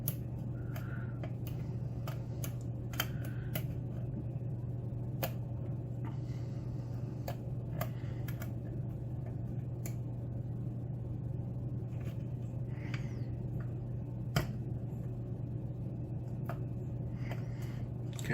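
Close, faint metallic ticks and clicks from a pick working the pins of a K1 Locks Runner lock, scattered irregularly over a steady low motor hum with no talking.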